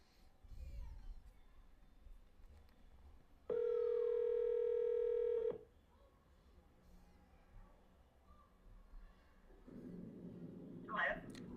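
A single steady telephone ringback tone sounds for about two seconds amid quiet room noise, followed later by a short burst of faint hiss and a voice.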